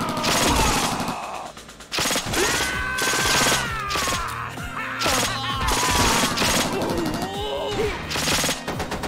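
Rapid bursts of automatic gunfire rattle in the video game Planet Alcatraz alongside mechanical clicks and clanks, dense and loud throughout, with faint game voices in between.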